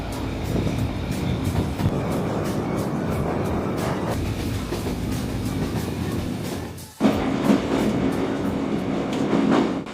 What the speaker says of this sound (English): As we can see, there are also freight trains. A lot of them. In this case, these are liquefied gas tank cars